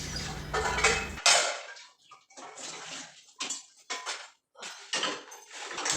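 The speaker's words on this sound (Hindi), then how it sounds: "अब मैं निकाल रही कुकर, क्योंकि मैं बनाऊंगी बैगन कुकर में।" A pressure cooker is pulled out among pots in a home kitchen, with repeated loud metallic clanks and clatters close by in quick irregular bursts.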